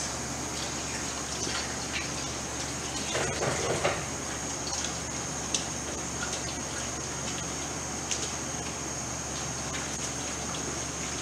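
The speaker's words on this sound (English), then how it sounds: "I'm gonna go wash my hands, get all the dirty stuff off." Tap water runs steadily into a sink as hands are washed, a continuous gush with occasional splashes and light knocks over about eleven seconds, moderately loud and with no talk.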